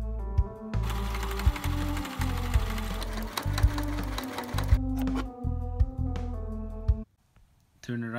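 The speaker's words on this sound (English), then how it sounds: "then first I sew the seam on the outside" A sewing machine stitching a seam on old sweater fabric while a beanie is made, a close, rapid mechanical clatter that runs steadily with brief pauses and stops near the end, a voice talking faintly over it.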